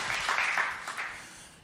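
Applause from a church congregation, a short burst of many hands clapping together at moderate volume that quickly fades away.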